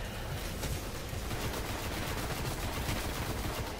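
Rapid machine gun fire in the sci-fi shooter game Destiny, a dense continuous burst of shots held at steady loudness throughout, with no talking.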